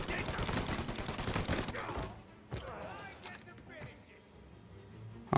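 Rapid bursts of gunfire fill a shootout in Mafia: Definitive Edition, loud and dense for about two seconds, then thin out into scattered distant shots and mechanical clatter.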